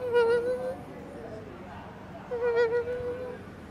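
A voice imitates a housefly buzzing, a sustained nasal droning hum in two drawn-out bursts with a gap between, close and moderately loud.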